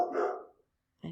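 A single dog bark, close and loud, dying away before a second sound starts right at the end.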